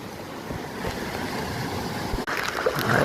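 Floodwater from an overflowing river rushes around a submerged temple, a loud, constant broadband roar of moving water mixed with wind-like noise.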